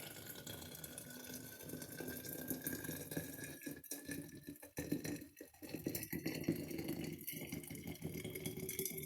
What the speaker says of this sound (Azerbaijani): qaynadılmış suyumuzu əlavə edirik